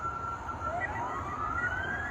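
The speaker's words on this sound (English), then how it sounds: "There's sirens blaring." Emergency vehicle siren blaring at midnight, a steady wailing tone with a second rising sweep joining partway, moderately distant over a low constant rumble, no voices.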